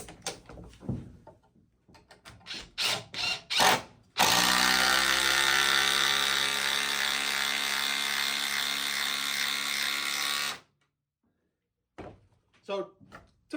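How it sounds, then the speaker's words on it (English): A DeWalt DCF850 brushless impact driver hammers a 1/4 inch, 5 inch long bolt in one long, loud, continuous rattling burst lasting about six seconds, with short clicks and handling noises before and after. "This is a 1/4 inch bolt, also 5 inches long. We'll see how it goes with that one."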